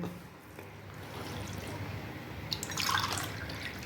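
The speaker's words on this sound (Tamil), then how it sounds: "4 டம்ளர் வந்து இதில் ஊற்றுறேன், 4 டம்ளர் அதில் ஊற்றுறேன்." Water pours steadily into a pot for cooking finger millet, a continuous rushing, splashing sound, close up, growing slightly louder toward the end.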